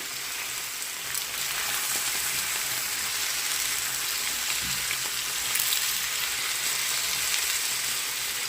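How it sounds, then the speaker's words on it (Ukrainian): Continuous loud sizzling of potatoes frying in a pan, dense and crackly throughout, with no voices. "І так обсмажую з усіх сторін, щоб вона була гарненько рум'яненька."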